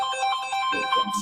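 An electronic doorbell chimes at a gathering in Fayetteville, North Carolina, a short melodic tone sequence ringing clearly for about a second, with faint voices underneath near the end.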